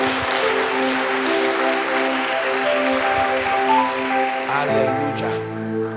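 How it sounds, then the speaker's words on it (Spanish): Loud, sustained applause from a church congregation at a Spanish-language sermon, dense clapping filling the whole stretch under sustained music-like tones, easing slightly near the end. "Aplauda bien fuerte."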